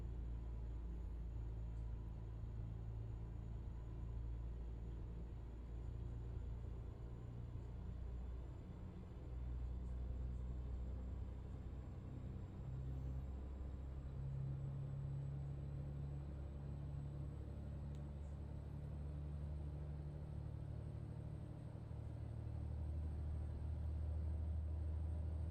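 A car cruises along with its engine running at a steady low rumble, the droning hum faint and constant under a thin high whine throughout.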